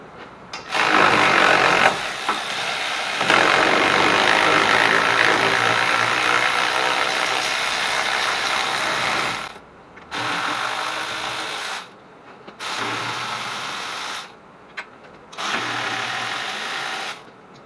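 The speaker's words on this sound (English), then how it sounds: "What I'm going to do is switch to my electric ratchet, make things a little bit quicker." Electric ratchet spinning out wheel hub bolts on a Ford Taurus during a hub and CV shaft job, running in several loud sustained bursts, one long run followed by three shorter ones with pauses between.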